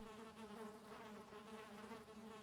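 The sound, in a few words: bees buzzing around a beehive in the video game Valheim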